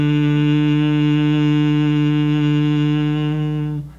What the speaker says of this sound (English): Just humming like this.